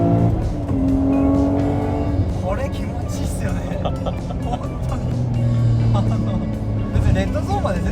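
A Nissan Skyline R34 GT-R with a GT-SS turbo revs high and steadily from inside the cabin, a loud, continuous engine drone with rising pitch, while people talk over it.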